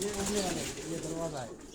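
Pigeons, including young birds, coo in low rolling phrases inside a rooftop loft in Karachi, close and continuous under someone talking.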